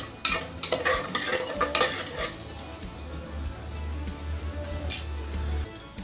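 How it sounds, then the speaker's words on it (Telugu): Cashew nuts frying in a pan for a Moong Dal Phool Makhana payasam, a low sizzle under repeated clinks and scrapes of a spoon against the pan, close and without talk. "జీడిపప్పు వేయించుకొని"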